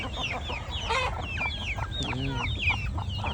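Chickens of a black breed cluck and chatter in a busy overlapping flock nearby, with scattered squawks over a low background rumble.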